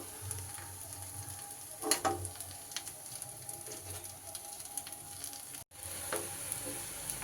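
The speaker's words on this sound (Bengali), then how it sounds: "উল্টে পাল্টে এইভাবে ভেজে নিচ্ছি" Pumpkin pieces fry in hot oil with a continuous close sizzle, broken by occasional louder crackles and soft scrapes as the pieces are turned and stirred.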